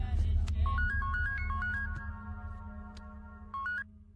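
A phone rings in a tense film scene, a bright electronic ringtone cycling through a stepped melodic pattern over a low rumbling score, pausing and then briefly resuming near the end.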